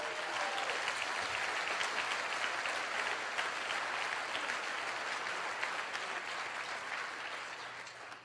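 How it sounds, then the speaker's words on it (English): A large audience at a motivational seminar gives sustained applause, a steady wash of many hands clapping at moderate distance that fades slightly at the end. "Give yourselves a round of applause."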